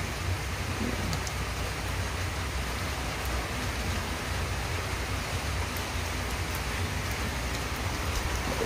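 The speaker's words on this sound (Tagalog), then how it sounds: "So maulan pa rin." Steady rain pours down in Camarines Sur in the Bicol region under dark skies, a dense, even hiss of drops on surfaces with occasional sharper patters, continuous and close, no one talking.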